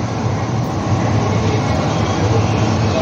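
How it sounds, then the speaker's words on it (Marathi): An underground Mumbai Metro Aqua Line 3 train runs between Aarey JVLR and Kotak BKC, giving a loud, steady rolling rumble with a constant wheel-and-track roar throughout. "अल्फा 3 मेट्रो लाईन, मुंबईची भूमिगत मेट्रो रेल्वे"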